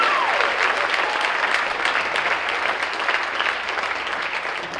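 Audience applause for a trombone soloist at a high school jazz concert: steady, dense clapping from a crowd that holds for several seconds and slowly tapers.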